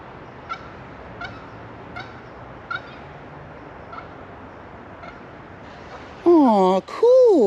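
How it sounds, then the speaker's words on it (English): Geese landing on a pond make a few faint, evenly spaced honks over a steady outdoor hiss, followed near the end by louder, closer wavering honking calls. "I got my last footage of 2024 of the geese coming in for a landing."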